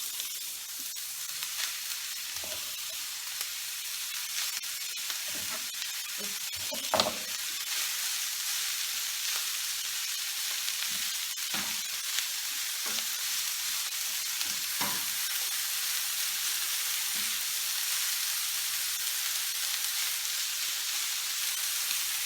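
Cabbage frying with bacon in a pan gives a steady, bright sizzle throughout, broken by occasional stirring scrapes and small clicks, with no talking.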